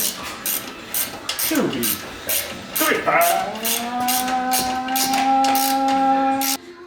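A speed wrench ratchets in quick, evenly spaced clicks while a leveling kit goes onto a 2017 Ford F-150 pickup, repeating steadily under a sustained, whining, moan-like tone that fills the middle of the clip.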